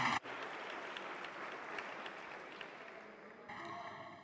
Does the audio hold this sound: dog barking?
no